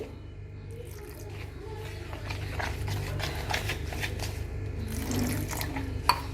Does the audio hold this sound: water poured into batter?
yes